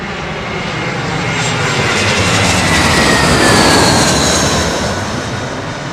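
An Airbus A380 jet at Heathrow roars past close by, its engine noise swelling to a loud peak midway and then easing slightly, with no talk over it.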